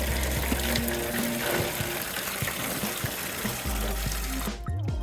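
Coolant pours and gushes steadily from a detached lower hose on a Peugeot RCZ HDI, a close continuous splashing stream that cuts off abruptly near the end.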